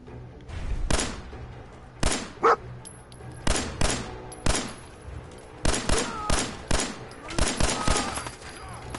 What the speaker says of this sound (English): Oh god, gunshots!